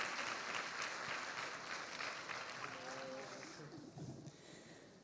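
Audience at a family-themed lecture applauds with soft, dense, steady clapping heard at low level, tapering off gradually while voices rise near the end.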